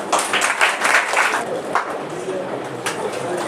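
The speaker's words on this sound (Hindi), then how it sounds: "एक बार जोरदार तालियां बजाइए विवेक के लिए" Clapping breaks out at a school prize distribution ceremony for Bihar board matric students, a burst of audience applause in a hall that is strongest early on and thins out, with chatter and voices mixed in.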